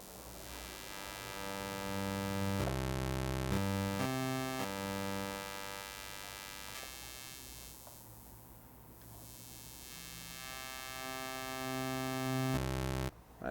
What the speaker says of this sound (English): Now what if we put a high pass in here? So now we're shaving off the low frequencies.